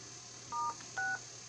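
Two short telephone keypad tones for star and six, pressed one after the other over a quiet phone-line hiss, each beep lasting about a fifth of a second.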